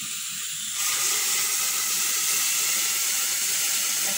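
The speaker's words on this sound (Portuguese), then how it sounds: "Pronto, agora só meter a água." Water poured into a pot while making soup: a steady, close rushing splash begins just under a second in and holds at an even level to the end, with no talk over it.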